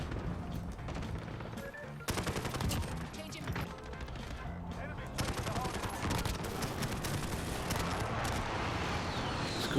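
Rapid automatic gunfire from the video game Modern Warfare 2 on the Rust map, loud continuous bursts with dense crackling shots filling the clip, with a voice briefly audible underneath.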